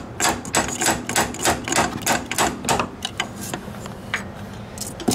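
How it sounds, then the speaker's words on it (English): Rapid, repeated metallic taps from a small hammer on a Ford Panther-platform steering gear part, steady rhythm, close and fairly loud over a noisy background. "I need to get my little hammer and tap it in."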